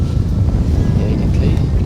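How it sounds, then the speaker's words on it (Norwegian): Strong wind on a spring sea-trout fishing trip by the water buffets the microphone in a loud, continuous low rumble that gusts unevenly throughout. "Og vinden blåser veldig godt den veien der."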